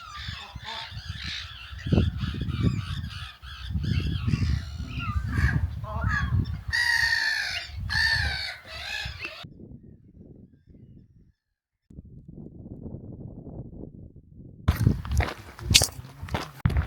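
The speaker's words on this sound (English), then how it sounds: "we could see all the birds and everything, the waterfowl, as they're called, on the water" Waterfowl honk near water by a wildlife hide, goose-like calls rising over a steady bed of outdoor noise, with footsteps and brief voices, then a drop into near silence before another loud burst.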